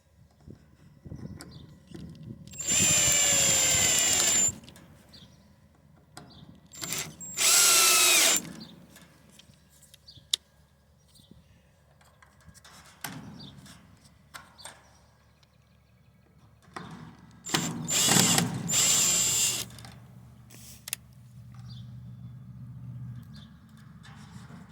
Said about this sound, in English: I'm going to put the screw over just a little bit and back this one out so it draws up that way